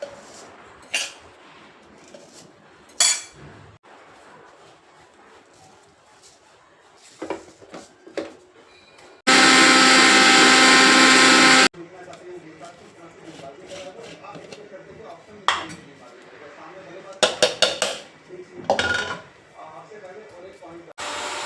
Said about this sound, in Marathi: हे तांदूळ आपण मिक्सरमधून काढू